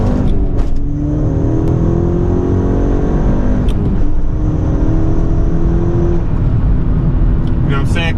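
A front-wheel-drive winter car accelerates hard in quick pulls, engine revving up through rising tones with a brief drop between gears, loud and close, with someone talking over it.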